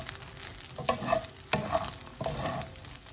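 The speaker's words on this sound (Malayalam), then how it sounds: "ലാസ്റ്റ് ഒരു നുള്ള് ഗരം മസാല അതിൻ്റെ മേലിലേക്ക് തൂക്കിയിട്ട് ഒന്ന് മിക്സ് ചെയ്യാം." Bread upma with a pinch of garam masala is stirred in a frying pan, giving three distinct scraping stirs over a soft, close sizzle.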